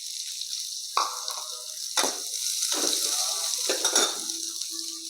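Sliced onions and whole cumin hit hot refined oil in a kadhai, bursting into a steady loud sizzle with several scraping stirs and clinks of a spoon against the pan.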